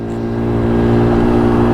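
Daytona Hobby 50 engine running steadily under load while riding through city streets, a continuous close mechanical drone that rises slightly in intensity throughout, with no talk.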